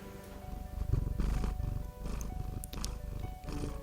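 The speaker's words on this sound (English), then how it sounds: "Can you hear his purring?" A close, rhythmic low rumbling purr cycles steadily in repeated breaths, soft but continuous.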